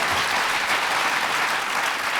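An audience in a studio or hall breaks into dense, steady applause, many hands clapping close and loud throughout with no pauses.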